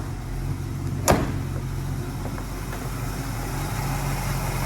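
A 305 V8 in a restored 1976 Chevy LUV with new plugs, wires and a rebuilt carburetor idles smoothly and steadily at close range, with one brief sharp click partway through.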